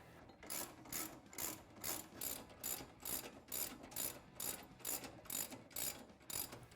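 A ratchet clicks steadily in fast, even strokes as it tightens the stock upper bolts, with washers and nylock nuts, on a rear bumper mount of a Polaris RZR XP. The clicking is close and runs continuously with no talk.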